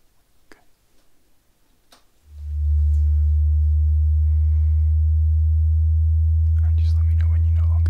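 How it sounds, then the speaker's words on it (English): Low steady hearing-test tone during an ear exam, starting about two seconds in and holding loud and unbroken to the end, with faint soft clicks and rustles around it. "Fourth tone, ready?"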